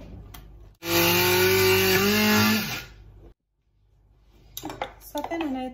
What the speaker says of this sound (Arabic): غادي نطحنها سوا بالخلاط اليدوي بحال هكا